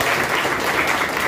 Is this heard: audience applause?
yes